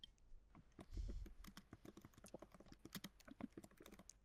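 Quick, uneven keystrokes clatter on a computer keyboard, close and fairly quiet, with a brief thump near the start and no talking.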